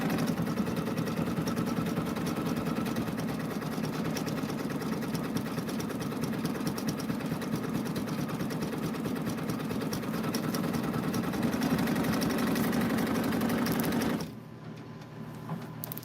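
An embroidery machine stitches out a design of about 3,800 stitches, a steady, loud, fast mechanical whirr and rattle that runs without a break and then drops to a quieter hum near the end.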